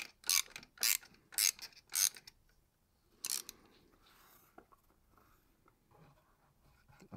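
A 32 mm socket on an extension ratchets to loosen the drain plug of a Volvo/Ford Powershift MPS6 6DCT450 automatic gearbox, producing four loud, evenly spaced ratchet clicks and one more after a pause, then faint metallic handling sounds.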